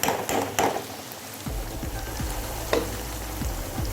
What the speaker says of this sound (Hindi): ये ऑयल के अंदर फ्राई हो रही है